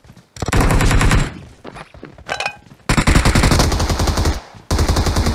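Rapid automatic gunfire from a multiplayer shooter video game, loud and close, in long sustained bursts separated by brief gaps, alone with no talk over it.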